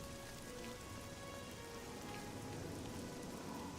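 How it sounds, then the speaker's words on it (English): Continuous rain in the video game Oblivion, a dense, even hiss of drops on surfaces with faint tonal music underneath, steady throughout. "Still raining."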